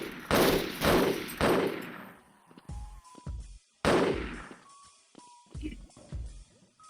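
Pixel gun firing in a Minecraft-made game map inspired by Doom, Portal and Half-Life: several loud, sharp bursts of shots in quick succession, separated by gaps, with someone talking in between.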